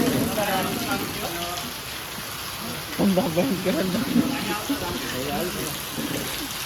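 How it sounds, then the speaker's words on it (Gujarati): Steady rain patters on surfaces throughout, with people talking over it nearby. "અને આને જો વરસાદ"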